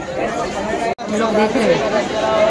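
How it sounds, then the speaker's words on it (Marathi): A busy, crowded Dadar market in Mumbai fills the air with dense, constant chatter from many overlapping voices, close and lively throughout. "खूप गर्दी आहे इकडे"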